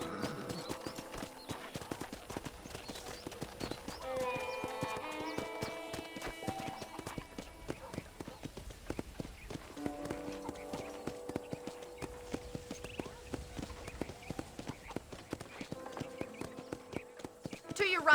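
Horse hooves clip-clop steadily at a walking rhythm in the video game Red Dead Redemption while people talk throughout, with occasional snorts or neighs mixed in.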